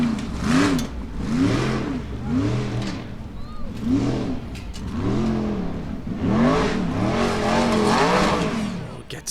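Icelandic Formula Offroad cars race on a track at Egilsstadir, engines revving up and down in repeated loud bursts as they climb, with voices talking over the roar.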